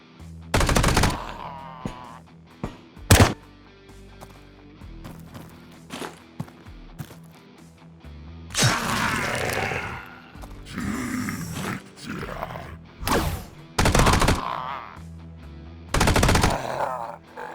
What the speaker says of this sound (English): I think I like the chain gun a lot more.